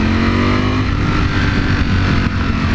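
A Ducati Panigale V4S motorcycle engine drones loudly and steadily while riding, its pitch rising slightly as it revs, with heavy wind noise close up throughout.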